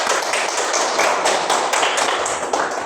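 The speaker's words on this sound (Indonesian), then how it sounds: "Tepuk tangan dulu untuk kelompok 1." Classroom applause for a student group, a dense, continuous patter of many hands clapping together, loud and close for the full stretch with no talk over it.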